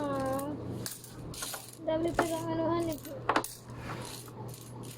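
Loose peso coins clink and drop into a child's savings bank at home, a few bright metallic chinks scattered over several seconds while an adult and someone talk throughout.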